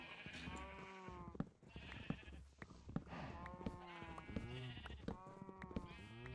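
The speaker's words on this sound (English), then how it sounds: "I'm tired of the sheep and the cows being in the same pen." Sheep bleat repeatedly in Minecraft, several wavering, nasal calls overlapping one after another at close range, with a few clicks and thumps between them.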